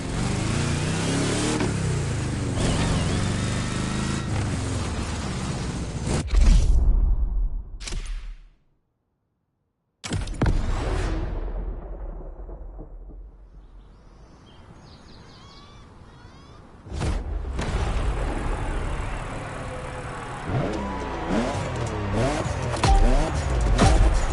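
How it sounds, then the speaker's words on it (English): A 2021 Toyota Super Drift Edition engine in The Crew Motorfest revs and roars in loud bursts with shifting pitch, cutting to brief silence midway, then a quieter lull before revving resumes strongly. "Let me present one of the new monsters of the festival, the 2021 Toyota Super Drift Edition."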